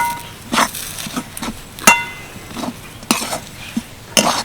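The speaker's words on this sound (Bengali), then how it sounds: "এবার আমি এর মধ্যে ধনে পাতা কুচি দিয়ে দেব ভালো করে মিশিয়ে নিচ্ছি" A spoon stirring chopped coriander leaves into dry parota stuffing in a pan, a series of close scraping and clinking strokes against the metal at an uneven rhythm, with a soft sizzle beneath.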